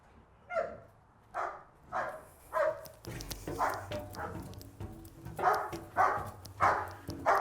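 A police dog barks in loud, evenly spaced bursts, about eight or nine sharp barks over several seconds, with an officer's voice and background commotion beneath the later barks.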